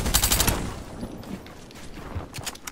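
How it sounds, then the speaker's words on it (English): Rapid bursts of automatic gunfire in a first-person shooter video game, loud and close at first, then scattered lighter shots and distant cracks continuing without speech. "I was getting shot at."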